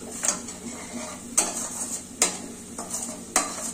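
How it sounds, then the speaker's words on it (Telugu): Onion fries in a pan with a continuous sizzle while a spoon stirs and scrapes against the metal in about five sharp, clanking strokes, heard close up. "అంత తీసినాకనే ఉల్లిగడ్డ వేయించుకోండి."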